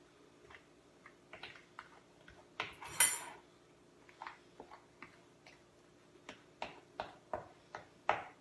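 A fork scrapes and taps against a bowl while gluten-free bagel flour is mixed, giving a steady series of light clinks and scratches, close and clear, with no talking.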